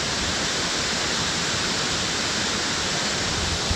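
Waterfalls roaring in a steady, broad rush of falling water, loud and unbroken throughout with no voices.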